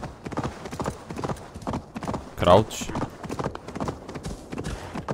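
Horse hooves clip-clop in a steady rhythm while riding in Assassin's Creed Valhalla, running all the way through and overlapping someone talking, with a brief louder rustle or snort in the middle.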